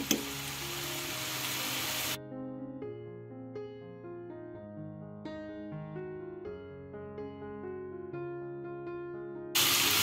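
Cabbage and egg fry with turmeric, coriander powder and mixed spices sizzles steadily in a pan for about two seconds. Music then takes over, and a short burst of frying returns at the very end.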